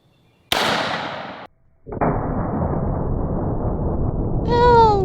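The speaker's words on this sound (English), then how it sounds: "This is the 12 gauge Piranha round. These things are filled with little steel nails." A 12 gauge Piranha shotgun round loaded with small steel nail flechettes fires as one sharp, loud blast with a brief tail, followed by a second sustained burst of noise and a shrill squeal at the end.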